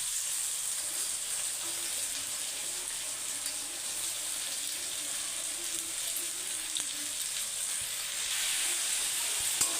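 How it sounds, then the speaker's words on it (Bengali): Onions frying in oil in a pot for egg biryani, a continuous soft sizzle that holds steady and fairly quiet throughout, no talking. "পেঁয়াজটা আমার হালকা ভাজা ভাজা হয়ে গেছে"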